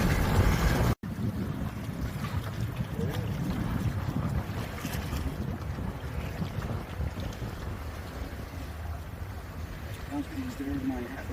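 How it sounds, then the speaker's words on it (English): Strong wind pours across a Catalina 27 sailboat on Long Island Sound in June, buffeting the microphone with a constant rushing roar while water washes against the hull. "Oh, we got some strong wind just when I said"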